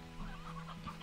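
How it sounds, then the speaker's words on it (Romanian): A chicken in the Slime Rancher game clucks in short, repeated bursts, close and moderately loud, with no speech over it. "Ce caută găina asta pe aici?"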